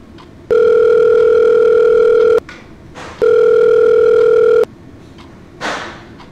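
A telephone ringback tone sounds while a call is being placed, two long steady electronic rings with a pause between them, followed by a faint rustle.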